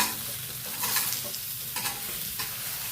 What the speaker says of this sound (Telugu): ఫైవ్ సెకండ్స్ వేగిన తర్వాత మనము ముందుగా కట్ చేసి పెట్టుకున్న బెండకాయలు తర్వాత టమోటా ముక్కలు వేసేసుకోవాలి